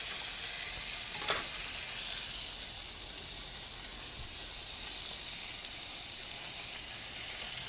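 A frozen steak sizzles on a hot flat top griddle under a weight, giving a steady, dense frying hiss throughout with a brief louder crackle near the start.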